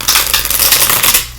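Tarot of Marseilles 2020 edition cards being shuffled by hand, a close, brisk burst of rapid papery riffling clicks that stops abruptly.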